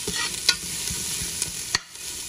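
Onions sizzle and sauté in a pan with a steady, close frying hiss. Soft, irregular stirring clicks and scrapes of the utensil come and go, and no one speaks.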